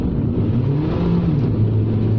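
A Honda S-MX engine revs hard on kickdown going uphill, a steady loud drone with rising pitch, close up and with no talking.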